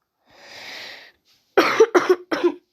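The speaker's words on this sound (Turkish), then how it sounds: "O yüzden biraz fazla öksürüyorum." An ill person gives a breathy exhale, followed by a quick burst of three close, harsh coughs.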